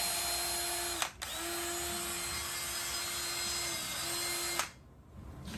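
Handheld rotary tool whining at high speed while porting a cylinder head, a steady tonal buzz with grinding texture, briefly dipping twice as the load changes before cutting off near the end.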